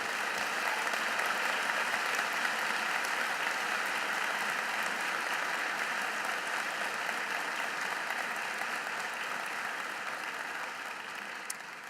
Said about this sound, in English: Could we please give our new commissioned officers another round of applause